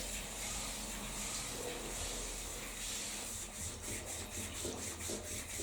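Someone scrubs a rust stain on a bathtub, making close, steady, raspy rubbing strokes over faint background hiss, with no talk.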